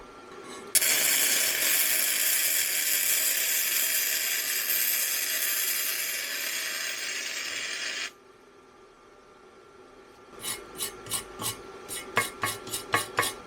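An Arccaptain MIG130 welder lays a MIG bead into a groove, giving off a loud, steady frying hiss for several seconds that cuts off abruptly, followed by a run of sharp, rhythmic clicks.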